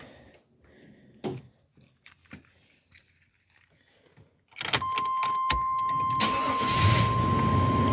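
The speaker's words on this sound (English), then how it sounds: "Let's go for the first startup." A Chevrolet Tahoe with a weak battery cranks and fires up after quiet clicks and rustling inside the cabin, then settles into a steady, fairly subdued idle with a faint whine, close by.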